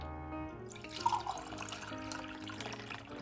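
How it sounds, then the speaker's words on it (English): Filtered water pours into a container for a drink of brown sugar syrup, a soft, close, continuous trickle lasting a few seconds with no talking. "And then you're gonna pour 2 cups of water."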